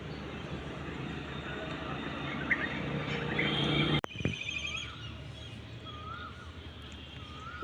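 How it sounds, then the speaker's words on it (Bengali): Birds chirp in a park in spring, a few short calls and thin tweets scattered at a moderate distance over a low outdoor hum, with one sharp knock partway through. "চারিদিক ফুল আর পাখির কিচিরমিচির আওয়াজ।"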